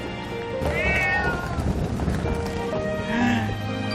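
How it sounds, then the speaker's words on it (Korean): A mother cat on Ainoshima cat island meows several times, drawn-out rising and falling cries, amid busy outdoor background noise. "엄마 고양이."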